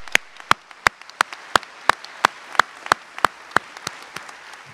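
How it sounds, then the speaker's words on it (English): Clapping for honor scholars at Huston-Tillotson University's 2022 Honors Convocation, heard as a steady, evenly spaced run of about a dozen crisp, close claps over a quiet background. "So another round of applause to our scholars."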